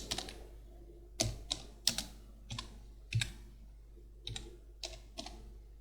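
Someone types on a computer keyboard while working in AutoCAD, quiet separate clicks and short bursts of keystrokes at an uneven pace, close by with no talking.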